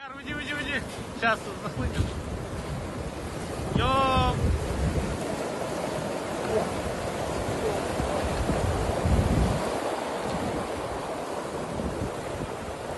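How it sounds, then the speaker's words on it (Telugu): Tsunami waves surge up to six feet high along a coast, a continuous roaring wash of water mixed with heavy wind buffeting on the microphone, rising and falling without pause. "సునామీ అలలు ఆరడుగుల ఎత్తు వరకు ఎగిసిపడుతున్నాయి"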